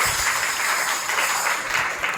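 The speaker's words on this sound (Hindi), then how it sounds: "कुछ लाइनें पसंद आ जाए तो तालियां भी बजा दीजिए" An audience at an open-air Hindi street play on the education system applauds, a steady wash of clapping from many hands that goes on for the whole stretch, with no voices on top.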